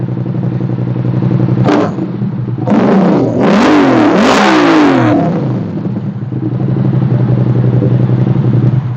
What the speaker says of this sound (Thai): มาเรามาฟังเสียงท่อกัน